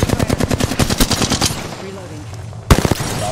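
Rapid automatic gunfire rattles loudly through the first second and a half of a battle-royale tournament fight, fades to a lull, then a final sharp burst of shots cracks out near the end.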